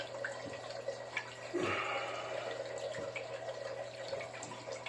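Water runs slowly and steadily through a sluice box during a gold cleanup, a continuous trickling wash with a few small splashes and gurgles, close by and alone.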